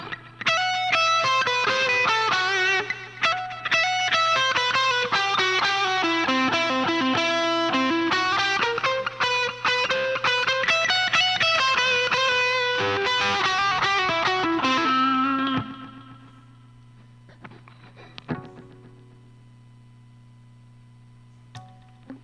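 A distorted electric guitar runs quickly through a scale in a steady, dense stream of notes for about fifteen seconds, then drops to a quiet hum with a few faint, isolated plucks.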